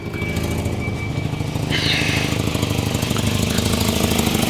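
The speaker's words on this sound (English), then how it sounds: "Let's give her some rip'ems here. Definitely an exhaust leak." A 1985 Volvo 245 engine revs with an exhaust leak, rumbling steadily with a rough, ragged exhaust note, rising slightly in intensity partway through; no voices.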